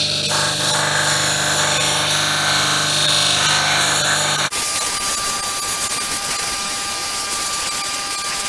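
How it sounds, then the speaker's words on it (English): An old, worn sanding disc on a power sander grinds against a 2x4 offcut with a loud, harsh, continuous whine. Midway the tone abruptly shifts to a thinner, higher buzz as contact changes, with no voices. "the paper on this disc is very old, and this might do more burning than sanding"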